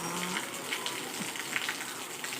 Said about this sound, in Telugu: వర్షం చూడండి కూల్గా చల్లగా చల్లగా పడుతుంది